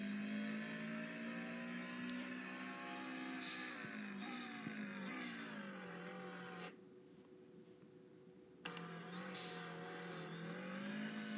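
A Subaru rally car engine drones loud and steady from inside the cabin, its pitch rising and falling as it accelerates, with a short drop in power near the middle before it picks up again.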